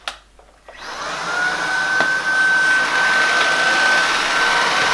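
After a brief click and pause, a Shark Anti Hair Wrap cordless vacuum cleaner whirs up and runs steadily with a high, whining motor tone.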